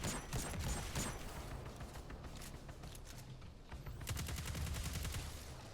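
Rapid bursts of gunfire in Destiny 2: Lightfall, dense and continuous with a loud crackling barrage at the start and again near the end, layered over a steady game soundscape.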